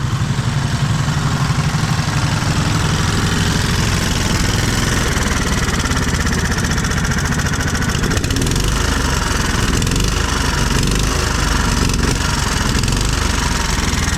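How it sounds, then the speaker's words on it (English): Several lawn mowers, a John Deere among them, run together at steady idle, a loud continuous engine drone with a muffler leak, close by and with no talk. "Got all the mowers running. All of them are running now. Even the John Deere."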